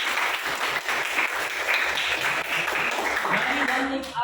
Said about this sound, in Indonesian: aplaus dulu teman kita